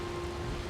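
Steady rain falls in the video game Drakan: The Ancient's Gate, heard as a soft, even wash of noise with a faint tonal hum underneath, through a brief stretch with no talking.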